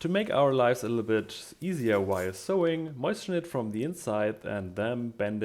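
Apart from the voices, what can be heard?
None of the usual background noises is heard.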